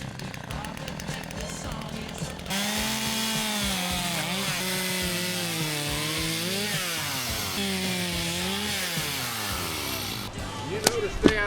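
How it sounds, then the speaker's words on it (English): A chainsaw engine whines and bogs as it cuts through wood, pitch rising and falling with the load, close and loud. "teach me how to use a chainsaw"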